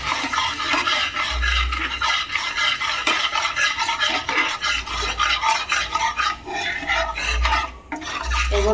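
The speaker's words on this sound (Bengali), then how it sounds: "আমি এখানে বেসন দিয়ে দেবো 1 চামচ মতো দিয়ে লঙ্কাটা নাড়তে হবে" Kashmiri chili powder being stirred with a spoonful of gram flour (besan) in a bowl, a continuous loud gritty scraping and rubbing of a spoon against the bowl, close up, with no talking.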